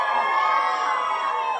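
A crowd of children cheering and screaming together in church, one sustained loud burst of high voices filling the room.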